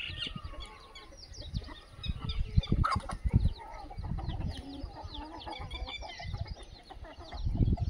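Free-range desi chickens cluck and a rooster calls on a low-cost poultry farm, with repeated clucks and chatter from several birds near the microphone and occasional louder calls over soft background noise.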